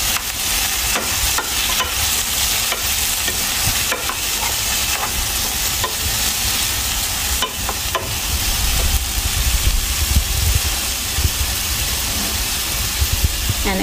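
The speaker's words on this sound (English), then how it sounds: "I'm going to mix it." Bitter melon being stirred in a hot frying pan, a steady loud sizzle with scraping utensil strokes against the pan throughout, close up.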